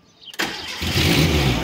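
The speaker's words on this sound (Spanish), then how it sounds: "el coche arranca, arranca" An old, troublesome car with a suspected gearbox problem: after a short quiet moment the engine catches abruptly, then settles into a loud, steady run close by.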